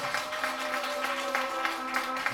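A crowd at a singer's birthday party claps to welcome the fan-club regional organizers onto the stage. The applause is steady and moderately loud, with a low murmur of voices underneath.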